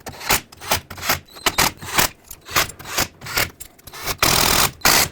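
Bolts on a 1997-2003 Ford F-150 rear differential cover are tightened in a crisscross pattern, with a run of short, clicking ratchet strokes close by, then a longer steady burst near the end, no voices.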